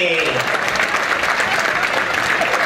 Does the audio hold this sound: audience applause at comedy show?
yes